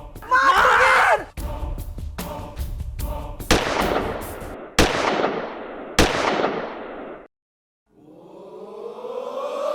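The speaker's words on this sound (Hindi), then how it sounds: "गोली चला दी मैंने" A pistol fires in a Hindi comedy sketch: a string of loud, sharp cracks spaced a second or so apart, with screaming at the start, a brief silence, then a rising tone.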